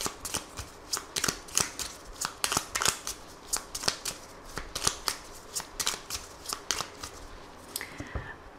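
A 32-card deck for a tarot reading shuffled by hand at close range, a steady run of crisp rhythmic card slaps and riffles lasting several seconds with no voices.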